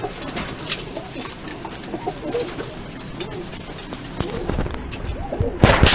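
Shortface pigeons cooing in a coop, several soft throaty coos repeating near and far over rustling and background clucks, with a brief louder flutter near the end; no speech.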